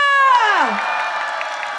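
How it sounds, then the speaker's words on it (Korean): A crowd at a candlelight protest rally lets out a loud, falling cheer and whoop, which trails into sustained cheering and clapping from many people. "박수 부탁드리겠습니다."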